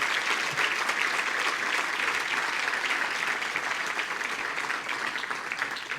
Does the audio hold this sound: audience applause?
yes